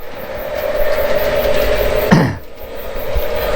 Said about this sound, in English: You turn this until the train starts to move.